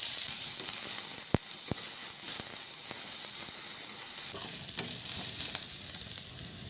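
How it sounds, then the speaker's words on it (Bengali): Whole cumin seeds, green chilies and chopped onion sizzling in hot oil in a kadai, a dense steady hiss with a few sharp spatters and stirring clicks. "কড়াই দিয়ে দিচ্ছি তেল, দিচ্ছি গোটা জিরে, দিয়ে দিচ্ছি কাঁচা লঙ্কা, পেঁয়াজ কুচি,"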